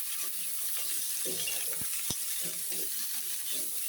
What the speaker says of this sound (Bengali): এখন সব উপকরণ আমি ভালোভাবে মিশিয়ে নেব।